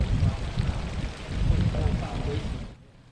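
Water pumped out of flooded basements along an overflowing creek in Whitesboro, heard as a dense, rushing gush with low churning rumble that stays steady and fairly loud before dropping off abruptly near the end.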